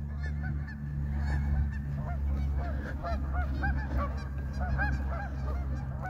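A flock of geese at a lake honks repeatedly and overlappingly, many calls at moderate distance over a steady low background rumble, with no speech.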